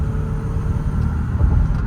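Inside a 2017 Toyota Sienna LE wheelchair-accessible van at highway speed, a steady low road rumble and engine drone fill the cabin, continuous and fairly loud with no talk.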